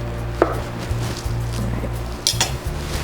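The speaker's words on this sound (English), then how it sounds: "So we're just gonna slice this up. You want nice thin slices, because everybody wants a little piece of chorizo in their bite." Knife slicing chorizo into thin slices on a board, with a few sharp cuts and light board taps over a steady low kitchen hum.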